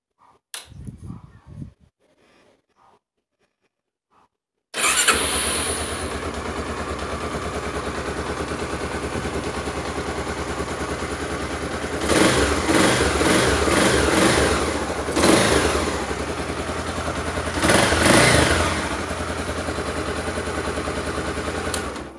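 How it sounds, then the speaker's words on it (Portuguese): A Honda CBX Twister 250 motorcycle engine with stock exhaust cranks and fires up at about five seconds, then idles steadily with three sharp throttle blips, close and loud. "mostrando o, o ronco da moto com escapamento original dela"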